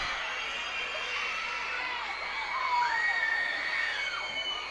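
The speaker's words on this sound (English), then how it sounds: "Crowd is getting excited here." A minor league baseball crowd at a Binghamton Rumble Ponies versus Reading Fightin Phils game cheers and shouts in a rising, excited roar with whistles and high children's voices, building louder toward the end.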